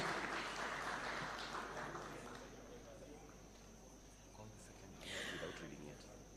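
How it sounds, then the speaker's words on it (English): Audience at a State House taxpayers' day awards ceremony applauding as award winners receive their prize; moderate distant clapping that thins out after a few seconds, then a brief swell, over a steady background hum. "A round of applause kindly as they receive the award."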